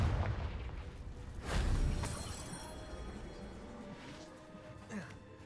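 A Confringo blasting curse bursts in the Hogwarts Legacy video game, a loud booming explosion around the two-second mark that rolls off into a long rumbling tail, with game ambience before and after.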